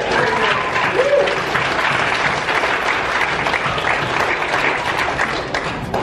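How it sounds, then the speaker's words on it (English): A gathered audience applauds in a full, steady wash of clapping, with a faint voice briefly audible early on. "Let's clap for them"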